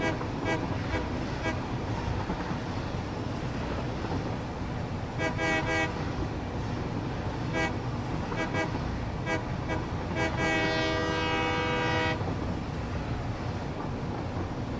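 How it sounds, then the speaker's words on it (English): Train in the factory-building game Satisfactory rolling along steadily, with several bursts of a tonal horn-like toot, the longest near the end. "I'm going backwards on a train, backwards on a train, train, train."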